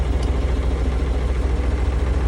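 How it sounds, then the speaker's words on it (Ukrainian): A T-30 tractor with front-wheel drive runs at a steady idle, its diesel engine throbbing in a loud, continuous low rumble close by, with no voices. "Мотор гарно працює, тиск тримає, не димить, не сапонить"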